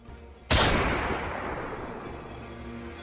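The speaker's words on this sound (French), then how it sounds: "un coup de feu." A single loud gunshot cracks sharply nearby, then its echo rolls and fades slowly over a few seconds, with no voices.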